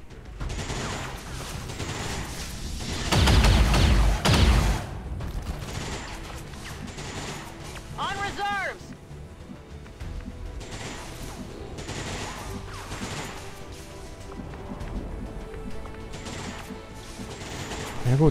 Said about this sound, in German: noch einen Schuss auf das Ding